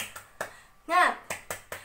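Primary-school children clap the rhythmic tepuk semangat chant in a classroom: sharp, close hand claps in a quick pattern, broken in the middle by a loud chanted shout from young voices.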